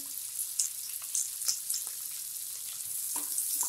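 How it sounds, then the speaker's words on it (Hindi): Chopped onion sautéing in a pan for semiya upma, a steady soft sizzle with faint scraping stirs at irregular moments, close and fairly quiet. "एक मिनट के लिए हमें प्याज को अच्छे से भून लेना है"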